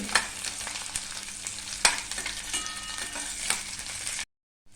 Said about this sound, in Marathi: त्याच्यामध्ये हे आपण अन्न आणि लसूण घालूया आणि ते पण त्या कांद्याबरोबर परतून घेऊ